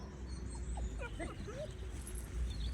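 An older dog whimpers by a lakeside, a few high, thin whines rising and falling over a low steady background, close and fairly soft, with no talking.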